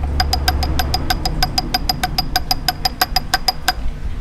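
A steady, rapid metallic knocking from a worn clutch, about five taps a second, rattles over a low idling motorcycle engine, close and fairly loud.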